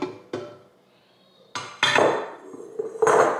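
A KitchenAid Fresh Prep slicer shredder attachment being taken off the stand mixer, a few sharp plastic-and-metal clacks and knocks separated by short pauses, close and clear with no talking.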